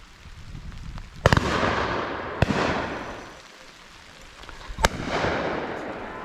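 Shotgun blasts at driven pheasants at Powis Castle: three sharp, loud bangs spaced a second or two apart, each trailing off in a rolling outdoor echo over a low background.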